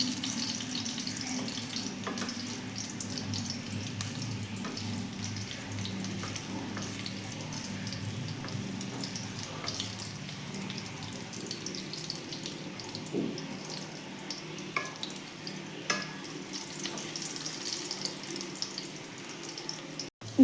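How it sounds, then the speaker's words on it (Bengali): Raw green banana kofta balls fry in oil in a kadai over low heat, giving a continuous soft sizzle with occasional light scrapes as they are turned. "এবারে এদিকটা ঘুরিয়ে ভাজবো, এপিট ওপিট করে ভালো করে এগুলো ভাজবো"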